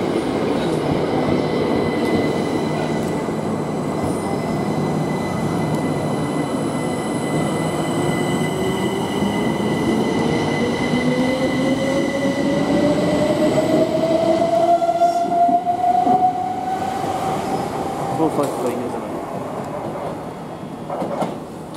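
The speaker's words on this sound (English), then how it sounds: "As that train goes away" A Southern Class 377 electric train rumbles steadily nearby as it departs Ford station, its motor whine rising in pitch as it pulls away, with faint wheel squeals toward the end.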